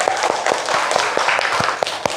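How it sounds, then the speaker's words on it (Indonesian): A classroom of students clapping together in a dense, fairly quick patter of overlapping hand claps, close and steady throughout. "Coba tepuk tangan untuk kita semua."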